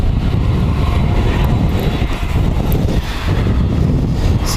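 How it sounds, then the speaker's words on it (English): A 12-year-old Jetstar Airbus A320 jet, registration VH-VGY, at Wellington Airport gives a steady, loud broadband roar with heavy low rumble and wind buffeting throughout, no talk. "This is our Jetstar going to the Gold Coast."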